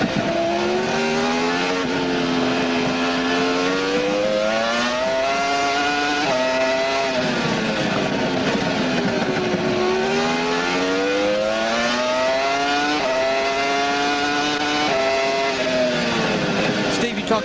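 Onboard sound of a NASCAR stock car driven by Jeff Gordon, engine pitch falling under braking and climbing again under acceleration in repeated sweeps, loud and steady throughout, with a commentator talking over it.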